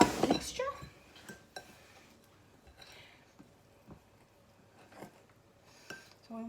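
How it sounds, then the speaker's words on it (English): Melted butter being mixed into a crumble topping for blueberry muffins in a bowl: a loud clatter at first, then soft scattered clinks and scrapes of utensil on the bowl, fairly quiet, with talking over it. "And we're just going to mix that all together."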